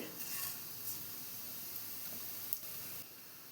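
Cumin seeds dropped into three to four tablespoons of hot oil in a pan give a soft, continuous sizzle that stays fairly even, with a few faint stirring scrapes and no voices.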